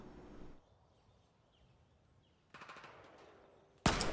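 Rapid gunfire in Battlefield 4: a short burst at the start, then after a quiet stretch a sustained automatic volley and a sudden loud blast at the end.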